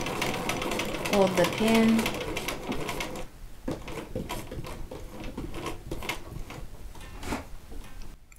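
A hand-crank sewing machine stitches two quilting fabric triangles together, running in a quick, even series of mechanical clicks and taps before a pause, then lighter intermittent ticks, with a voice talking over it.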